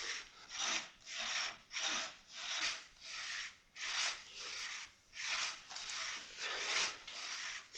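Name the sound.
saw cutting down a tree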